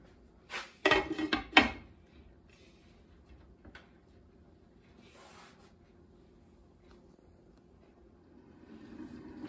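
A pot lid set onto a pot of boiling goat and pineapple stew, heard as a quick cluster of close clattering knocks, followed by a quiet bubbling simmer with faint kitchen noise.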